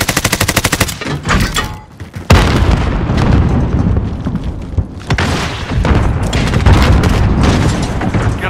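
A grenade blows up during a Call of Duty Modern Warfare hardpoint fight, a loud, heavy boom that floods into dense, sustained rumble and rattling gunfire close by.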